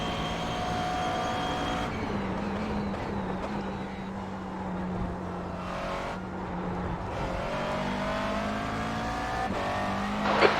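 A McLaren race car engine in a racing video game drones steadily at high revs, with occasional gear shifts and rising pitch, and faint tire noise underneath.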